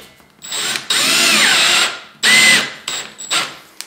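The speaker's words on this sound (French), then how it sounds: "Regarde là, je vais visser." Power drill driving screws into a ceiling frame, loud and close, in several bursts: a long whirring run, a shorter one, then brief quick pulses, with no talking.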